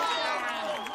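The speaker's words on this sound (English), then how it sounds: "Elmo found the sound of people cheering him on" A crowd cheers loudly and steadily in a short burst, cheering someone on during exercise, with voices blended into a continuous roar.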